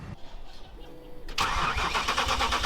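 A supercharged Audi RS4 engine cranks briefly after a quiet pause, then catches and fires into a loud, close, steady idle.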